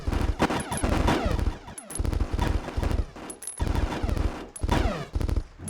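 Rapid gunfire and explosive blasts from the Mortyr video game's exploding Galil rifle, dense bursts of automatic shots repeating in loud clusters with brief gaps between volleys.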